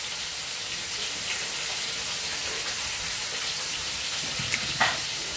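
Fish curry with chopped tomato frying in a pan, a soft steady sizzle with occasional scraping stirs and a couple of small clinks near the end, moderately quiet and free of speech.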